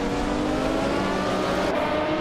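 A Ferrari 512 BBLM race car engine drones steadily in a racing video game, a loud, sustained high-pitched whine held at a constant pitch with no talk.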